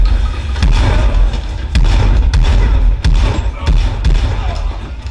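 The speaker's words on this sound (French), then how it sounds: "Mention spéciale dans la scène de fusillade au fusil à pompe dans John Wick 3." Loud booming shotgun blasts from a gunfight scene in John Wick 3, played through cinema speakers, with heavy low thumps recurring about every second over a dense rumbling soundtrack.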